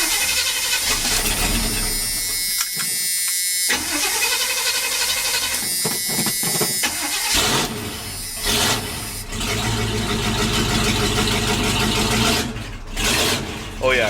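A K30 fire truck engine with its mufflers cut off runs loud and rough, a raw throaty rumble with uneven surges, while someone talks over it at times.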